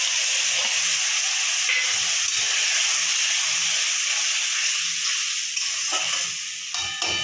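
Spice paste of salt, turmeric, cumin and green chilli frying in a pan, a steady close hiss and sizzle running throughout with faint soft stirring thumps underneath and no talk.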